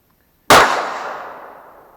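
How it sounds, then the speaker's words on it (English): A single sharp shot from a 4 5/8 inch 44 WCF revolver loaded with 36 grains of black powder on an outdoor range, a loud crack followed by a long ringing decay. "we're going to go ahead and shoot these guns so that y'all can see"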